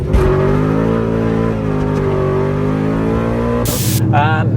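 A supercharged BMW M5 E39 V8 with straight pipes accelerates hard, tyres prone to spinning, its loud harmonic engine roar rising steadily through the revs before a sharp gear-change break and a renewed surge.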